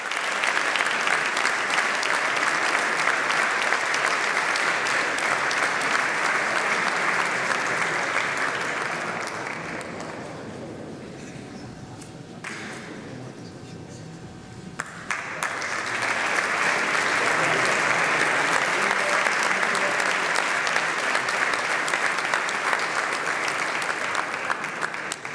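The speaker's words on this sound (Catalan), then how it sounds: "un fort aplaudiment per a Darío Tabaco, de Sor Ibèrica Sau." Audience applause at an awards gala honouring a company, loud and sustained, dipping briefly to quieter clapping midway before swelling back to full strength.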